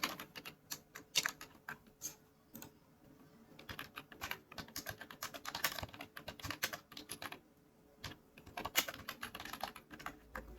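Typing on a computer keyboard while filling in an online form, heard as quick clusters of close key clicks with short pauses between bursts and no talking.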